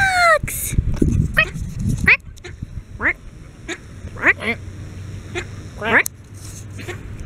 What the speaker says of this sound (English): You guys, ducks!